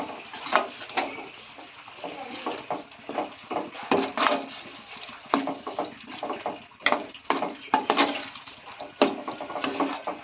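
A spoon scrapes and knocks around a pot while food, including soaked chana dal, is mixed together, giving irregular clinks and scraping strokes that repeat steadily and fairly close, with no talking.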